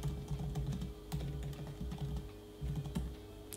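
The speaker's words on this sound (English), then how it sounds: "just type in kubectl apply and point to this file" Someone types a command on a computer keyboard, a quiet, close run of quick irregular key clicks in short bursts, alone without speech.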